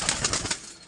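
Black Chinese pigeons in a pigeon keeper's flock give a short burst of close wing flutter and rustling, several quick soft flaps over about a second, with no voices.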